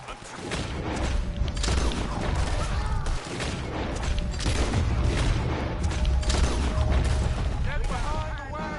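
A chaotic Red Dead Redemption 2 gunfight around a wagon, with dense volleys of gunshots and booms over continuous shouting voices, loud and sustained.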